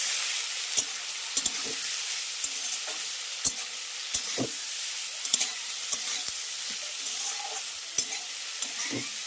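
Potato, eggplant and prawns seasoned with turmeric and salt fry in hot oil for a prawn and eggplant curry, giving a steady close sizzle broken by sharp clicks and scrapes of a stirring utensil.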